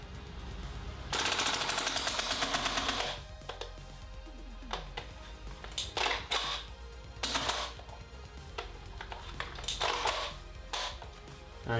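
Full-auto magazine dumps from a WE G36c gas blowback airsoft rifle, several loud, rapid rattling bursts of a second or two each, separated by short pauses.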